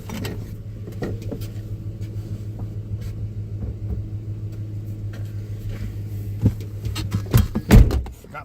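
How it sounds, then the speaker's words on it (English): A SpaceX Falcon 9 Starlink launch from Vandenberg, heard from far away as a steady low rumble under outdoor ambience, with a few louder knocks and thumps near the end. "You can still hear the rumble."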